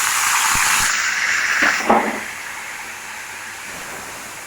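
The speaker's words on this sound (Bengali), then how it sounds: "ওই কড়াতেই আমরা তেল দিয়ে দিয়েছি। দিয়ে দেবো টমেটোগুলো কুচানো।" Chopped tomatoes hit hot oil in a wok, giving a loud, steady broadband sizzle and hiss that stays strong throughout, with a brief clatter partway through.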